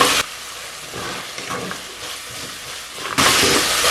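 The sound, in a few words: spices (cloves, cardamom, cinnamon) sautéing in a pan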